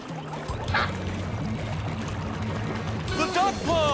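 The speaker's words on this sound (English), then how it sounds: "The water must have gone down that pipe spout." Cartoon water draining away down a pipe spout from a duck pond, heard as a gurgling, bubbling rhythmic drain under a steady low tone, with quick cartoon squeaks and warbles near the end.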